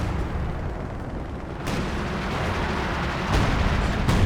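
Howitzer barrage in the World War II strategy game Company of Heroes 2, a steady heavy rumble of shell fire with a couple of sharper booms landing near the end, loud and continuous without speech.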